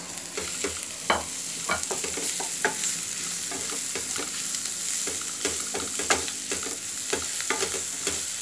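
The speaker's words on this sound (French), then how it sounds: "نحركوها شويه تتقلى" Meat frying in a pan for rice with meat, a continuous sizzle broken by frequent clattering scrapes and knocks of a spoon stirring, close and fairly loud with no talking.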